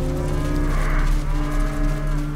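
Cows in the video game Wasteland 2 let out a loud, drawn-out moo up close. A steady low game hum sits underneath.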